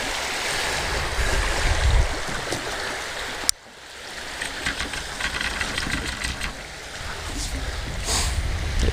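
Waves wash onto a sandy beach during shore fishing, a steady broad rushing hiss with a low rumble underneath, broken by a brief sharp knock before the surf swells back in.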